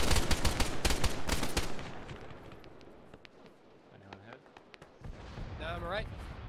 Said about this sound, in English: Watch it, there's an MG3 over here